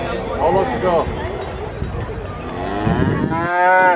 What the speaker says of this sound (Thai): หลังแม่วัวตัวนี้ก็จะอยู่ประมาณสะโพกเรา เอวเรานะค